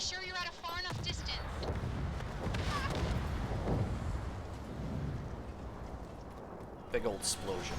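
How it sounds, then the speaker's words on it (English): A big in-game explosion from the Second Extinction Tundra campaign, a loud, broad rumbling blast that fills the clip and stays dense and sustained, with a voice talking over it. "Big old explosion."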